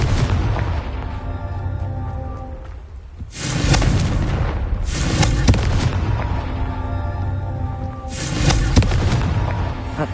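Confringo blasting spells explode in Hogwarts Legacy, loud deep booms with long rumbling crackle, three heavy blasts spaced a few seconds apart over a continuous roar.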